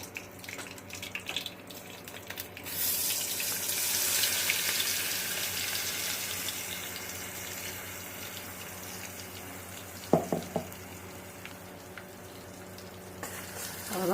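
Cinnamon and cloves fry in hot oil in a pan, giving a steady close sizzle that swells early on and then settles, with a brief clatter of utensils partway through.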